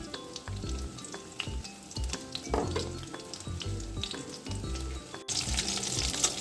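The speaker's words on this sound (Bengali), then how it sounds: "এবার এটাকে লাল লাল করে ভাজতে হবে।" Amudi fish chops fry in hot oil, a steady close sizzle with crackling bursts and occasional utensil taps, no voices.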